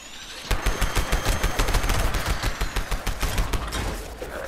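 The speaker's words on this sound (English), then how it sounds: "if you hold down the trigger, just release one bullet, all barrels fire" Pepper Shaker gun in Fallout 76 fires a rapid, dense burst of loud gunshots that runs for several seconds and then tails off, with no talking.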